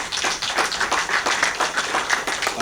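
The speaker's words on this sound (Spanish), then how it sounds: "Denle un aplauso al Señor en esta mañana" A church congregation claps together in a quick, fairly regular rhythm during a morning service, the close, bright claps pulsing steadily throughout.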